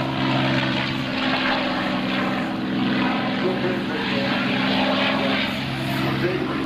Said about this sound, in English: Watching the first of the fighters take off. The P-51